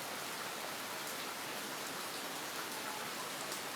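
Steady rain falling outdoors, a dense, even hiss of drops that runs unbroken throughout at moderate level, with no voices.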